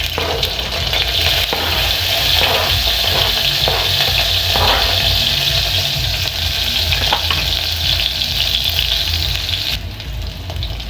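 Green onions sizzle and fry steadily in a pan during home dinner cooking with sausage and noodles, a continuous bright crackling hiss with occasional stirring scrapes, close and fairly loud, with no talking.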